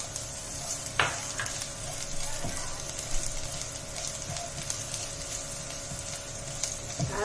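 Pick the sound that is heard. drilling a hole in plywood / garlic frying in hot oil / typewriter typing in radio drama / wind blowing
garlic frying in hot oil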